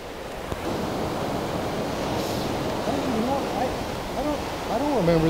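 Steady rush of surf on a beach at high tide, with wind over the microphone and people talking over the waves toward the end.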